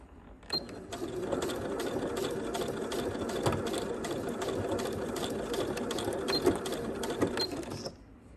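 A sewing machine stitches a zipper onto a swimsuit in a steady, continuous mechanical whir for about seven seconds, close and fairly loud, starting and stopping abruptly, with no speech.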